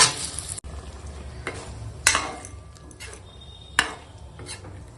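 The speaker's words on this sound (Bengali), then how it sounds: "এখন ডালটা রান্না করে নেবো" Masoor dal with turmeric and salt being cooked and stirred in a pot, heard as a few sharp scraping and clinking strokes at irregular intervals over a low, steady background rumble.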